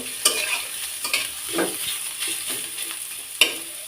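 Chopped onion stirred in hot oil in a pan for a fish-tail bharta: a continuous close sizzle broken by a few sharp scrapes and clacks of the spatula, with no voices.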